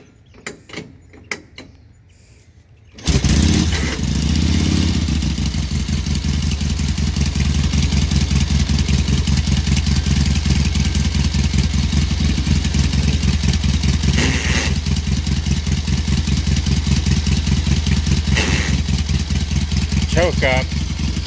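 A 1937 Indian Chief motorcycle engine fires up after a few seconds of near silence and settles into a loud, steady idle with a rapid, even pulsing beat that runs to the end.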